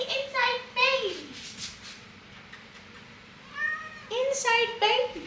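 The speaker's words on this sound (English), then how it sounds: "You're an inside kitty." An indoor house cat meows several times in short, high, rising calls, close by, with someone speaking softly to it between the meows.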